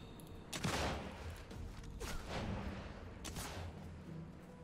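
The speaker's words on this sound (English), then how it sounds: "Who's shooting me?" Three distant, fairly soft gunshot bursts from Sniper Elite 5, spaced over a few seconds against a low, quiet rumbling background.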